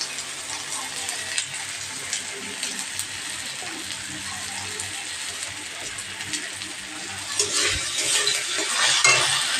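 Spices with salt and cumin powder are stir-fried in oil for moong dal, giving a hissing sizzle with occasional utensil scrapes. The sizzle swells louder toward the end.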